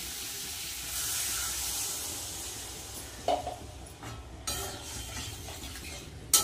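Water is poured into a hot pan of curry, giving a steady broad hiss and sizzle. Brief louder scrapes and knocks from a utensil against the pan break through at intervals.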